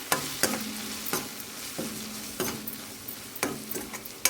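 Coriander powder being stirred into a frying fish curry masala in a pan, with a steady sizzle broken by several sharp spoon scrapes and knocks at irregular intervals, close and fairly loud.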